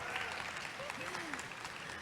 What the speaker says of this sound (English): Can we give a round of applause for Mardhiah?